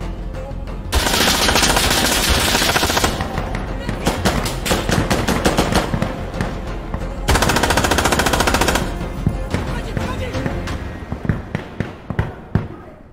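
Rapid automatic gunfire in a night-mission shooter video game, loud close bursts in two long sustained stretches followed by scattered single shots and short volleys.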